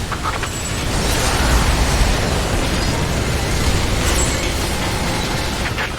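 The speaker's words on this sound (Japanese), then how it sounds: "情報が正しければマザーシップを落とせる頼むぞ マザーシップに着弾" Shells slam into an alien mothership in Earth Defense Force 6, a dense, continuous roar of loud explosions and booming bursts lasting the whole stretch without letup.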